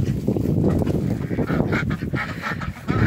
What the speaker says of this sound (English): Oh, there's a duckling.